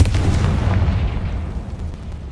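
A Confringo explosive spell in Hogwarts Legacy lands as a heavy, booming blast with a deep rumble that stays loud and then slowly dies away over a couple of seconds.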